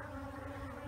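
Honey bees massed at an urban backyard hive just before a thunderstorm, agitated, give a steady close droning buzz with a low hum throughout, no talking.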